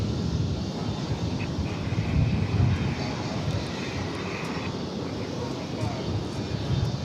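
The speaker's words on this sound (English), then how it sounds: "Got another Sun Country plane lined up to take off." A Sun Country airliner at DFW Airport, lined up for takeoff, gives a steady loud jet engine roar that swells around the middle and holds throughout.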